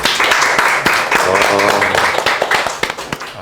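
Audience applause after a house design plan presentation, a dense burst of clapping from a group filling the whole moment, loud and close with a voice briefly heard under it.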